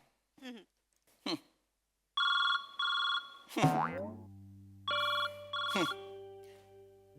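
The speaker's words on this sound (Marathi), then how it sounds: "माझ्या नवऱ्याचा फोन येतोय" A telephone ringing in a comedy sketch as two loud electronic ring bursts, followed by a second tone pattern, mixed with cartoonish boing effects.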